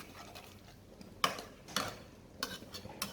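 Tomato puree being stirred into a simmering homemade takeaway-style sauce, heard as a few quiet, separate clinks and scrapes of a spoon against the pot, spaced about half a second apart over a faint background.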